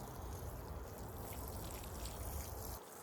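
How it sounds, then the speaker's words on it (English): Water pouring and trickling steadily onto spinach in a raised garden bed, a continuous soft splashing stream that runs for a few seconds, fairly quiet with no talking. "We're gonna water the spinach while we're here too."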